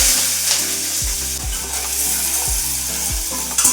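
Green chilies and onions fry in a pan, sending up a loud, continuous sizzle broken by regular low thumps of a ladle stirring about once a second; no speech.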